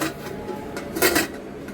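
A pressure cooker lid, its rubber gasket freshly wetted, is set onto the cooker in a home kitchen, giving a couple of short metallic clanks near the middle against quiet surroundings.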